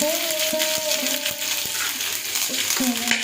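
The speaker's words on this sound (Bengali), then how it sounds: "তেলের মধ্যে হাফ চা চামচ হলুদ সর্ষে আর একটা শুকনো লঙ্কা আর কিছু কারি পাতা দিয়ে এটাকে ভেজে নেব" Half a teaspoon of yellow mustard seeds, a dried chili and curry leaves fry in two tablespoons of hot oil on an induction cooktop, a steady close sizzle dotted with small crackles and light clinks, over a faint electrical hum.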